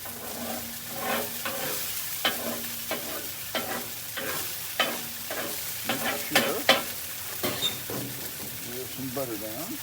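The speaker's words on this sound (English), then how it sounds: "We have oil and butter down for these hash browns." Hash browns fry in oil and butter for breakfast sandwiches, a steady close sizzle broken by scraping turns and stirring knocks, with a voice talking at times.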